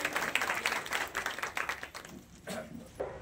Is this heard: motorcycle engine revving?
no